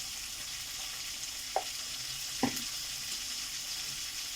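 Small-chopped vegetables frying with turmeric in a pan. A steady, moderate sizzle runs throughout, with two brief knocks of a utensil partway through and no talking.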